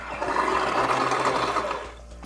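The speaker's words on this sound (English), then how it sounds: "Now if I want to, I can really rev this baby up." A remote-controlled Seaview submarine model revs its electric motor hard in water, giving a loud, steady churning whir with splashing that holds for about two seconds, then eases off slightly.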